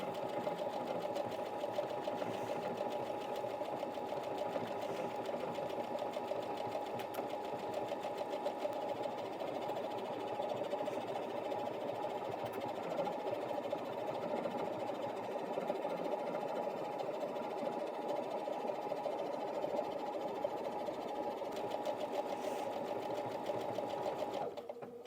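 A Brother Innov-is NV1800Q sewing machine stitches a lettering pattern in a steady, continuous mechanical whir that holds close and even throughout with no voices.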